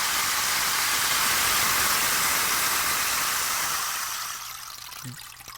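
A rain stick pours its seeds down through internal needles, giving a steady hissing rush like running water that fades away over the last second or two, played alone.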